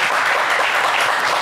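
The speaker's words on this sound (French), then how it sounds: "On va les applaudir très, très, très, très fort." A television studio audience claps for four game-show contestants, a loud, even, continuous roar of applause with no break across the short moment.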